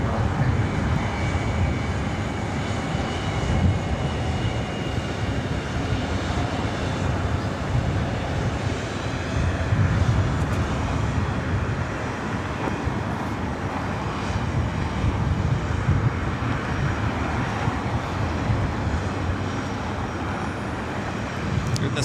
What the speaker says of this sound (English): It's a 22-year-old 757-200, originally delivered to Northwest Airlines in April of 2002.